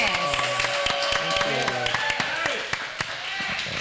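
Audience applause at a festival gathering in Houston, a crowd clapping steadily under continuous chatter and cheering, with scattered sharp claps standing out across the whole stretch.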